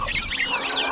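Geese and guinea fowl on a farmyard calling noisily all at once, a dense overlapping chorus of harsh honks and chattering cries close by with no break.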